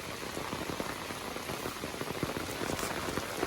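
Torrential rain pouring down in a village, a loud, continuous roar of drops drumming on surfaces with fine crackling detail throughout and nobody speaking.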